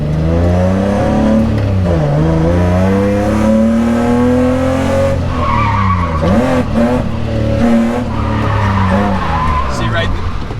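A drift car at a grassroots drifting event swings out, its engine revving and wailing in rising and falling sweeps while the tires skid and screech loudly and without a break.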